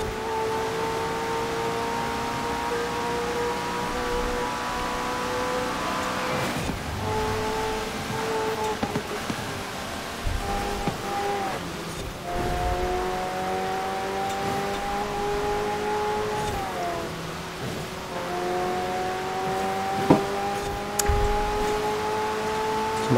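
A racing car engine in Forza Horizon 4, a steady high whine climbing and dropping through gear shifts, droning continuously at moderate volume with occasional bumps.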